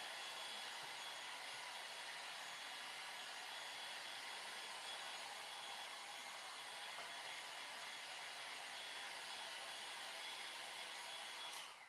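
A hair dryer runs in one steady, unbroken whoosh for about twelve seconds, drying paint along the border of a custom door hanger so tape can be lifted, close and fairly loud with no talking.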